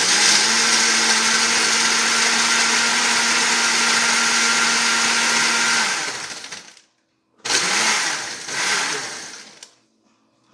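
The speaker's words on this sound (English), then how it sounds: "put our top on, slap it onto our blender" An electric blender whirs loudly and continuously for about six seconds while blending a drink, then stops, followed by two shorter bursts of motor and rattling.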